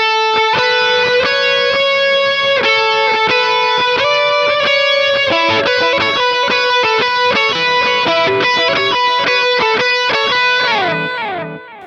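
Electric guitar lead with delay, the full part played with distortion through repeating echoes, a steady, loud stream of bright sustained notes for about twelve seconds with no talking.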